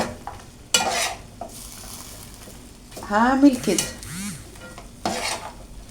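A spoon scrapes and stirs fatta in a frying pan, with bursts of clinking and scraping against the metal over a soft sizzle. A short voiced sound is heard midway.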